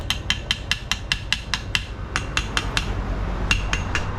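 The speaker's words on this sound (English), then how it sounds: "Tapping and checking his welds." A hammer taps freshly welded joints on the motor mount of a rice harvester under repair, about fourteen sharp metallic strikes in a steady, even rhythm, fairly close and clear above low background rumble.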